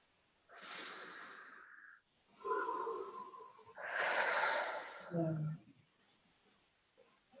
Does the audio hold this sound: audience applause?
no